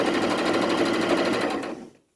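A sewing machine stitches a fabric mask with a steady, fast mechanical whir for about two seconds, then stops abruptly, heard up close.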